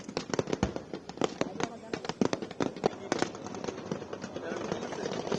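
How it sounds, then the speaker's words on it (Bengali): Grenades thrown by soldiers during a Bangladesh Army battle drill, a rapid string of sharp cracking blasts, some loud and close, others farther off, over a continuous rumbling background. "বেয়নেট চার্জ করার আগে স্টেজ ক্লিয়ার করতে সৈন্যরা গ্রেনেড নিক্ষেপ করছে।"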